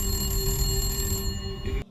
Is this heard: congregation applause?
no